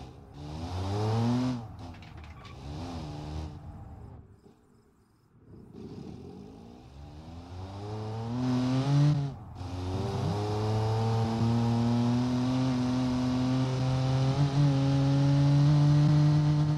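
Small 1980s Maruti Suzuki 800 car engine while driving, heard from inside as a steady hum that drops off briefly as if shifting gears, then rises again into a sustained drone with road noise.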